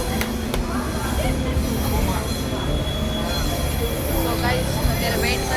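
Rumbling and squealing wheels of trains moving on neighbouring tracks at Ajmer station, heard from a halted train with steady background noise and a few sharp metallic clicks, while people talk nearby.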